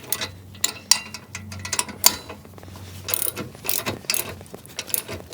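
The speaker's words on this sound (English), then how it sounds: "And then we'll just tighten up the bolts on the adapter." A ratchet wrench tightens the bolts on a hitch-mounted chase-car camera rig adapter, giving close, rapid clicking pawl bursts in uneven runs with brief pauses between strokes.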